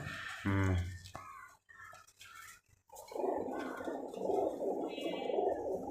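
Giribaz pigeons, an old high-flying breed from Rajshahi, coo in a steady murmuring stream after someone speaks briefly nearby.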